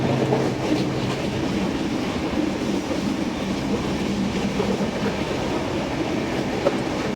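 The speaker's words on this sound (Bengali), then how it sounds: "রাতে আরেকটি ট্রেন যাচ্ছে" A train rumbles past close by at night, steady low roar with faint clattering of wheels on rails throughout.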